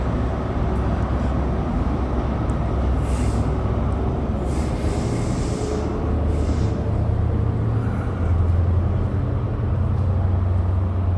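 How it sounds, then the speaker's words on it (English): A freight train rolls past in Dundee, a loud, steady rumble of wagons on rails that holds for over ten seconds, with no talking over it. "And over here we have the freight train."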